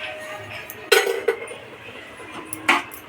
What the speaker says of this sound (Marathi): आणि चांगलं मिक्स करून घ्यायचं आहे.